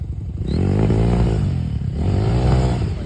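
A Kawasaki KMX or KLX dirt bike engine revs hard in two long pulls, the motor rising and holding a buzzy, raspy note, close and loud, with a short dip between the throttle blips.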